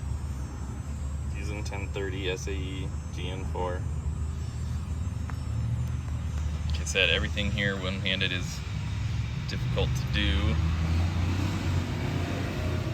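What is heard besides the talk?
traffic noise from a super busy street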